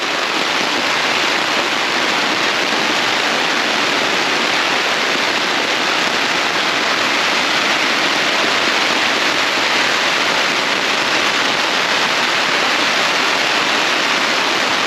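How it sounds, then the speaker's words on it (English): Heavy, steady rain drums on a leaking tent at a blizzard camp, a dense unbroken hiss filling the whole stretch with no let-up and no voices. "there's been no let up in the rain"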